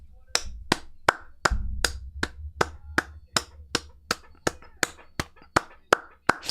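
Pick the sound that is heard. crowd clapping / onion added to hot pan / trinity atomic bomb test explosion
crowd clapping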